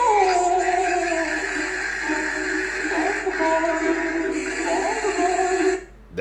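A dog whimpers and yips continuously in high, wavering cries, close and fairly loud, with a brief faint voice underneath before the sound drops away at the end.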